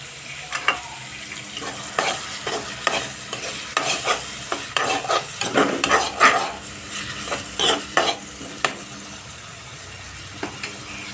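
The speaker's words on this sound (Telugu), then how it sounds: "ఇప్పుడు నేను టమాటా పీసెస్ కూడా వేసేసుకుంటాను." Tomato pieces tipped into softened onions for a cucumber curry, then stirred in a hot pan: repeated scraping spoon strokes and clinks over a steady sizzle, close and fairly loud.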